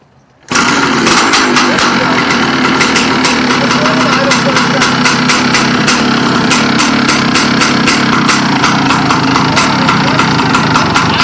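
A Kawasaki KX500 big-bore two-stroke dirt bike engine fires abruptly after a quiet moment and keeps running with a rapid, rough, pulsing exhaust bark, loud and close throughout.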